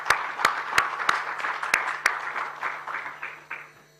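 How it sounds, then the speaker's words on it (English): Audience applause at an HR excellence awards ceremony for nominees and recipients, a steady wash of many hands clapping with a few sharp, loud claps standing out, gradually thinning and fading over several seconds. "Let's give a round of applause for them."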